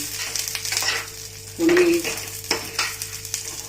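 Green chillies frying in a pan with a roasted peanut mixture for Maharashtrian peanut chutney, a steady close sizzle broken by stirring scrapes and a few sharper clinks, with no talk.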